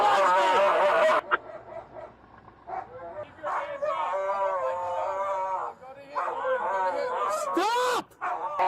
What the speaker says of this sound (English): The dog is coming out.